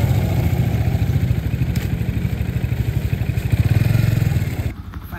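Repaired motorcycle engine running in the Himalayan village of Chame, Manang: a close, loud, steady idling putter with rapid even pulses that settles slightly near the end.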